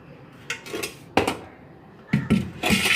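Clay mud pot handled on a hard surface, a few sharp knocks and scraping clatters in short irregular bursts, close and fairly loud.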